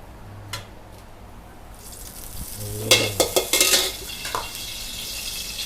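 Sizzling and clattering of a hot wok as fish is stir-fried in a Thai spicy stir-fry, with sharp bursts of frying and metal scraping midway, no voices.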